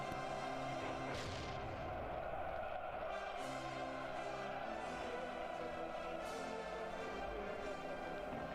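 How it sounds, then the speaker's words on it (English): Artillery salvos fire a triumphant salute at the Victory Parade on Red Square, heard as several distant, muffled booms spaced a few seconds apart over a dull, hissing crowd and archive-recording background. "50 artillery salvos resound in a triumphant salute."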